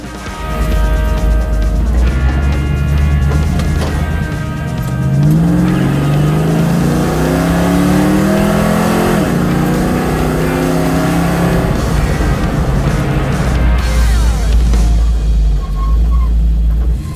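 A Dodge Challenger engine revs at wide open throttle, a loud, sustained roar that climbs in pitch through the middle stretch and then eases back to a steady drone, with cabin and road noise underneath.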